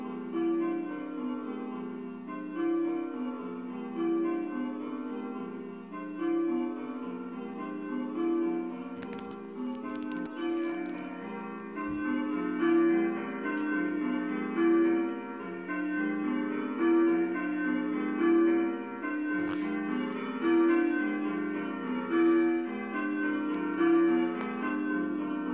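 A mechanical ringing machine plays a peal of church bells in the Kent Treble Bob Minor method, with steady overlapping strikes that keep an even, continuous rhythm, fairly loud and close, for the whole stretch.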